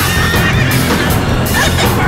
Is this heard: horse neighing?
yes